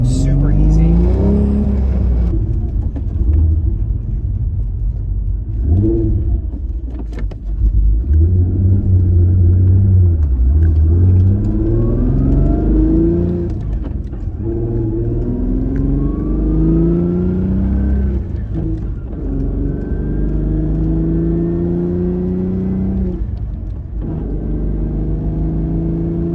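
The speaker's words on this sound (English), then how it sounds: "the engine sounds very smooth. You don't hear any dragging of the clutch" A car engine rises and falls through smooth manual gear shifts, its revs climbing in repeated sweeps with short dips between gears, a loud, close, continuous rumble from start to finish.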